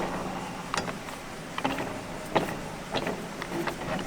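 A chuck is unscrewed from the threaded spindle of a welding positioner, giving a quiet mechanical rotation sound under a steady hum, with faint intermittent clicks and scrapes spaced through the stretch, and no talking.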